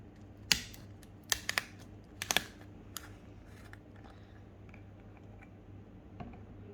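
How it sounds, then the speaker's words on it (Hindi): Several sharp crackling clicks and snaps as the plastic seal on a bottle of Caltex Havoline 0W-20 engine oil is opened come in a short burst, then trail off into quiet, close and fairly faint. "ये सील ओपन करने की आवाज़ आप लोग सुने"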